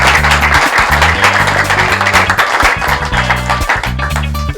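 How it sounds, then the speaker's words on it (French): An audience at a televised contest applauding, a dense wash of clapping that is partly masked by loud music playing over it. "le public va vous applaudir"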